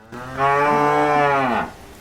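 A dairy cow gives a single loud, sustained moo lasting over a second, close and clear, rising and then falling away with no talking over it.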